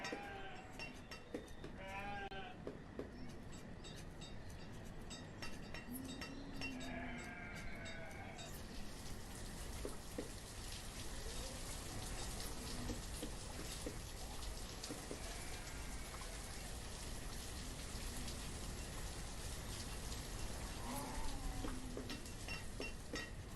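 Steady rain patters continuously over a broad hiss in the Banished city-building game, with occasional sheep bleats and ambient farm sounds layered on top, moderately loud throughout.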